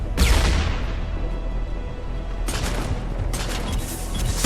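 Rapid bursts of gunfire from the video game Mass Effect 3 crackle loudly and densely, with an opening blast followed by sustained rattling volleys and another sharp burst partway through.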